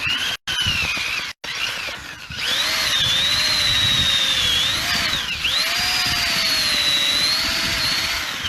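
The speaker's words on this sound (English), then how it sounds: "I'll put my feet on two sides and I'll drill." A loud power drill whines steadily at close range as it bores into garden soil, its motor pitch rising and dipping, after a couple of brief starts.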